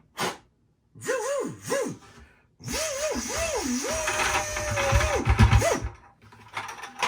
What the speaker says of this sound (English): now that you got your bucket and you've drilled a hole